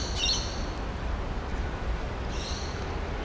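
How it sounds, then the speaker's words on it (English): Birds call in Hyde Park, Sydney, with two short bursts of high chirping at the start and near the end, moderately distant, over a steady low rumble of city traffic. "And I just love the sound of the birds here."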